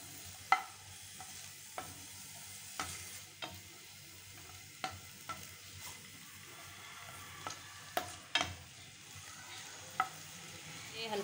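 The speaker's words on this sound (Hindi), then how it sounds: "अब इसको हम हल्का सा सोते करेंगे।" Tomato chutney sautéing in a pan, with a steady sizzle under a series of sharp scraping and stirring strokes of a spoon against the pan, close and fairly quiet.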